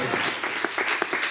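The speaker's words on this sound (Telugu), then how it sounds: "చప్పట్లు కొట్టండి గట్టిగా" A church congregation at a Sunday worship service claps in a dense, fairly soft burst of applause, steady and unbroken across a short stretch with no voices.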